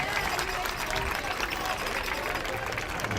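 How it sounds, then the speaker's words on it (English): Spectators at a Montgomery College versus Frederick CC men's soccer match applaud as an injured player gets up, a brief, steady patter of clapping from the sideline crowd. "Give him a nice round of applause, ladies and gentlemen."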